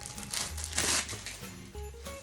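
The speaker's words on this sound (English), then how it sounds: "It's kind of wrapped in this little bit of a cellophane look here" Cellophane wrapping is pulled off a thick mat for an EENOUR tumbler press, close crinkling and rustling with one louder burst of crackle near the middle, no talking.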